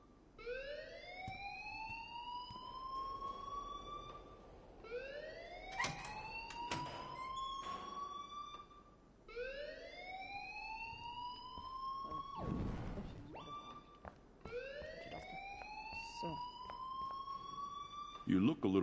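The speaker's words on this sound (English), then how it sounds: "please turn off that alarm since that's your job" A Life is Strange alarm wails in rising, repeating siren sweeps about every four seconds, steady and loud, with voices and game sounds breaking in over it.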